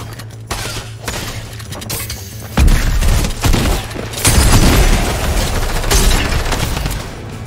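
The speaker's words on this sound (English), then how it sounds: "Is that drum gun? Did I just get drum gunned?" Loud bursts of drum gun fire in a Fortnite-style solo versus squads match, heavy repeated blasts and booms stacked into a chaotic fusillade over several seconds.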